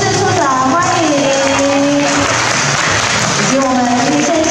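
Audience applause welcoming guests, including a deputy county magistrate, at a charity ceremony; a dense, continuous patter of clapping fills the space while a voice speaks over it.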